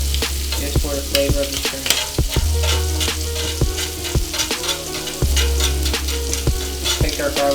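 Garlic frying and browning in a pan for a shrimp dish, a loud continuous sizzle broken by sharp scrapes and clacks of stirring, with a low steady hum underneath and a brief voice over it.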